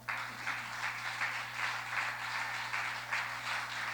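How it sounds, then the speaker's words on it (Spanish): Church congregation applauding the Lord during a Spanish-language sermon, a steady wash of many hands clapping together at even loudness throughout, with a low constant hum underneath. "denle un aplauso al Señor"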